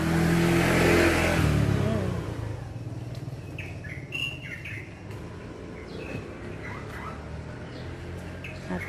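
Birds chirping in short scattered calls over outdoor background noise, following a loud passing engine at the start.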